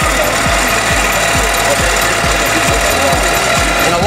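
A quilting machine runs steadily and loudly, its rapid, even needle stroke repeating in a fast mechanical rhythm throughout, close up and alone.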